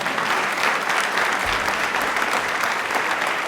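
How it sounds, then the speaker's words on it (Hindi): Dense, steady audience applause at a televised Rajasthan quiz show, loud and continuous from start to finish with a full crowd clapping together and no pause in the sound. "तालियां"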